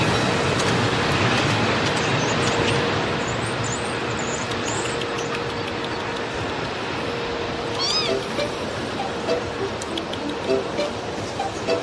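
Domestic cat meowing a few times amid steady outdoor background noise with passing traffic, the calls fairly close and clear.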